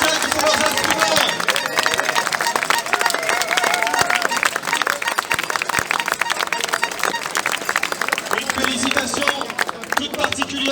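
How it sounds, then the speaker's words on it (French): Crowd at an outdoor patriot protest rally in France applauds flag bearers and musicians, giving loud, sustained clapping mixed with chatter and cheering voices, with musical instrument tones running through the crowd noise. "Et on peut les applaudir. Et on peut applaudir les drapeaux des musiciens qui sont leurs instruments."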